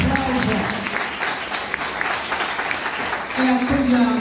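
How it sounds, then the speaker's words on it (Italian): Audience clapping at a book presentation in Lercara Friddi, a dense, steady round of applause with some voices talking over it near the end. "Va bene, grazie Serafino, un bel applauso."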